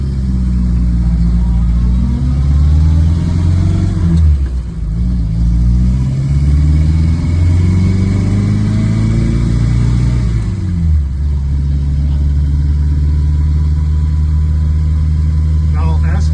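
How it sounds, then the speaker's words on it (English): Reliant Regal three-wheeler engine running loud and close while driving, a steady low drone that climbs in pitch through gear changes, dipping briefly between shifts before settling into an even cruise. "The engine sounds great."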